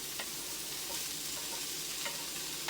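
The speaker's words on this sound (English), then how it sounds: "I'm gonna put my sausages into here and just saute them" Sausages sauté in a hot pan, a steady close sizzle and crackle running throughout with a few sharp spatter pops and light stirring scrapes, no voices.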